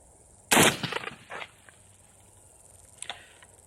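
Gunshot from a VRF14 firing light loads: one sharp, loud report with a brief ringing tail, then quiet until a fainter, shorter click or pop a few seconds later.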